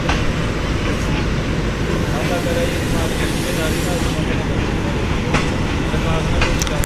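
Sir Syed Express passenger train on the Green Line running on rails, a loud continuous rumble with steady wheel clatter and occasional brighter metallic squeals throughout.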